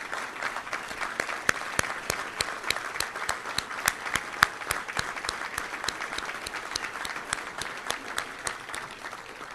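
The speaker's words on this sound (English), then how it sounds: "Let's give them a round of applause." A crowd applauds at a touchdown club luncheon, with many sharp individual claps standing out over a steady clapping bed that continues throughout.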